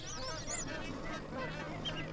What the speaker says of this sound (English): including huge flocks of magpie geese, whistling ducks, and pygmy geese